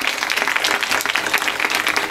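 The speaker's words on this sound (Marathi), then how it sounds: "एकदा जोरदार टाळ्या वाजवा" Loud, dense applause from an audience at a kirtan fills the whole stretch, a continuous close roar of many hands clapping with no pauses.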